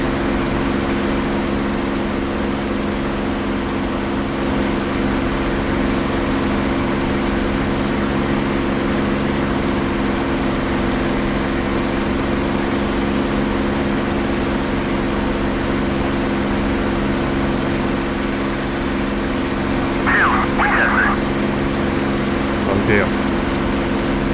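Droning P-51 Mustang piston propeller engine in DCS World flight simulation, a steady loud hum with strong low harmonics throughout, briefly overlaid by faint radio chatter near the end.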